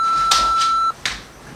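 An answering machine beep: a steady electronic tone lasting under a second, followed by faint clicks and handling noise.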